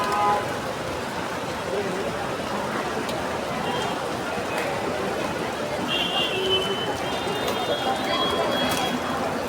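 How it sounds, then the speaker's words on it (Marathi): Steady rain hiss falling outside in Mumbai, continuous and fairly loud throughout, with a faint high tone and some background voices. "बघा का पाऊस पडतो"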